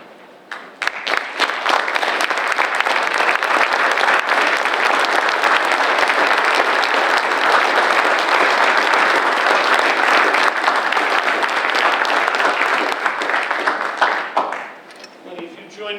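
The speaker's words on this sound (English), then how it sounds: "I'd ask all of the selectmen present to stand so that we can give you a round of applause" A crowd gives a sustained, loud round of applause for the selectmen at a ceremony declaring Newbury a Purple Heart Community, starting abruptly, holding dense clapping for about thirteen seconds, then tapering off.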